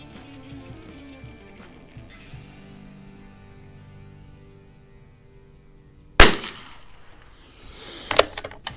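A Winchester 52C .22 rifle fires Norma Tac-22 rounds: after a quiet stretch come two sharp, loud, close cracks a couple of seconds apart, the second followed by a few smaller clicks.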